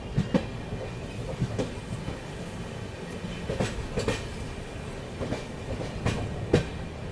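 A train slows as it passes through a railway station, with rumbling wheels and repeated clicks over rail joints rising and falling close by, and no voices.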